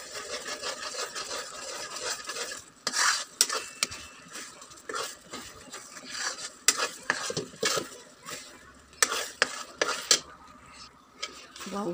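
A spoon scrapes and clinks around a pot of homemade jelly cooking down, with irregular scraping strokes and occasional sharper knocks against the metal, close and fairly loud with no talking.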